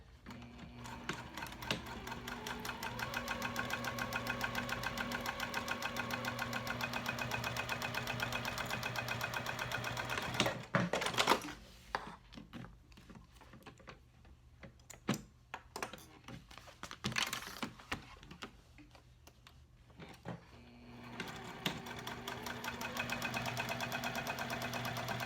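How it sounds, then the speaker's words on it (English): A sewing machine with a Teflon foot and size 12 microtex needle runs a steady 3.5-length straight seam along the edge of a mini box tote, a continuous close whirr that breaks into stops, clicks and fabric handling midway, then resumes. "I'm just going to start here and sew all along the straight edge"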